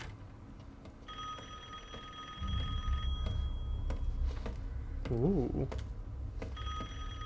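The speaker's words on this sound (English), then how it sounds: "Phone ringing." A telephone rings in bursts within Resident Evil Village gameplay, a steady electronic trill repeating under moody rumbling ambience, with a player's brief exclamation and occasional clicks.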